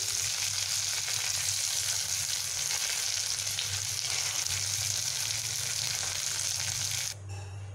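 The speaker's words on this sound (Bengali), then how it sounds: "এগুলোকেও আমি লাল লাল করে ভেজে নেব।" Ridge gourd pieces fry in hot oil in a pan, a dense, even sizzle that stays loud and close before dropping suddenly to a quieter level at the end.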